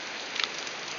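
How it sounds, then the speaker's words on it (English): Steady rain hisses down across massive puddles, a continuous broadband patter up close with a few brief drip accents, no voices. "I'm literally walking through like massive puddles in the rain"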